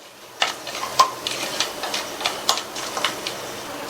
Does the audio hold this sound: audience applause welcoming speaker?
no